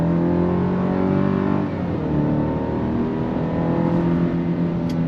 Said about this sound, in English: On throttle, drops down and we're off.